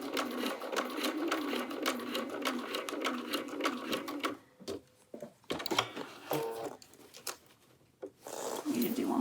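A sewing machine stitches binding on a quilted jacket in rapid bursts, pausing and restarting several times at close range, with short quiet gaps between runs.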